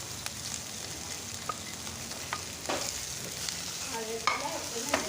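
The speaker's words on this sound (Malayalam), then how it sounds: "കുറച്ച് ഇനി നമുക്കിതിലേക്ക് സവാള ഇട്ട് കൊടുക്കാം" Onions sizzle quietly as they are sautéed in a pan for an egg dish, with occasional soft scrapes and taps of a spoon stirring them and no talking.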